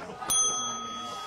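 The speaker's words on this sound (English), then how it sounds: "Go hit the bell." A single sharp strike of a small bell, ringing out clearly with a bright tone that decays over about a second.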